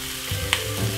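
Sweet corn frying in a pan with pasta and corned beef gives a steady close sizzle, with a brief scrape of stirring partway through.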